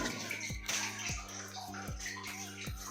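Water flowing down from above into the Belum Caves, a close, steady gush with a rhythmic pulsing splash repeating about every half second.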